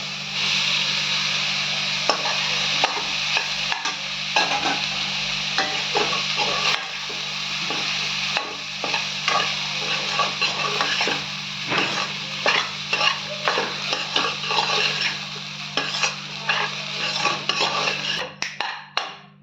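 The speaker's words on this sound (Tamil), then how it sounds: "இப்போ நம்ம ரைஸை போட்டுக்கலாம்" Rice is stirred into sautéed coriander paste in a pan for coriander rice. Soft frying noise continues under repeated scraping and tapping of a spoon against the pan, growing busier and more clattery toward the end, close by with no talking.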